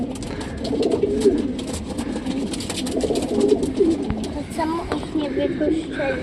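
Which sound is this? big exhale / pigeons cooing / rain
pigeons cooing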